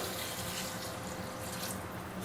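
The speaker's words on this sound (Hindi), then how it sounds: "इसमें मैंने डाल दिया है 4 ग्लास के करीब पानी, जो कि है 1 लीटर।" About one litre of water, roughly four glasses, poured steadily into a pot of chicken browned with yogurt for pulao, a continuous splashing rush with no talk.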